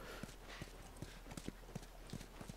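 Horse hooves clip-clop in a steady rhythm, soft and fairly distant, over a constant background hum, from the video game The Last of Us.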